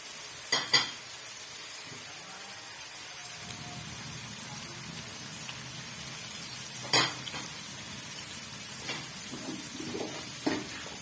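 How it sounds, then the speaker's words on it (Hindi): Masala pasta fries lightly in a pan, giving a steady soft sizzle with a few scattered clinks and scrapes of a utensil stirring, close and with no voice over it. "सिर्फ फ्राई करना है, हल्का सा, ब्राउन नहीं करना"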